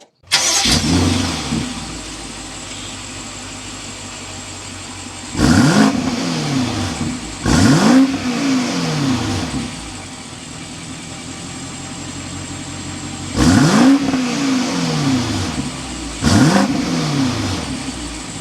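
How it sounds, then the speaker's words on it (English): A 2023 BMW X5 M50i's twin-turbo V8 starts with a roar, then settles to idle, with four sharp exhaust revs that rise and fall, loud and close. "start it up, so you can hear that exhaust note"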